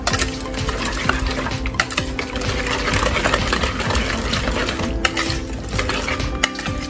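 Potato and egg are mixed for a Spanish tortilla, giving a close, steady scraping and clinking of a utensil stirring against a bowl, rapid and continuous without speech.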